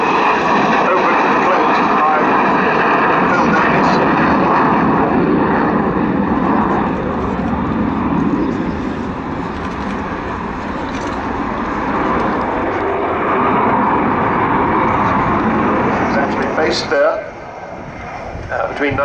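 An Avro Vulcan B.2 XH558 bomber at the RIAT 2013 airshow roars steadily overhead as a loud, continuous jet-engine rumble, with commentary over the public address running throughout.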